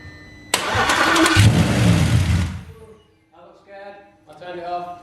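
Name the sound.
Audi RS4 engine starting without exhaust connected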